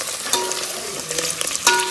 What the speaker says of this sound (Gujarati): ભૂંગળા તળાય છે અહીંયા અત્યારે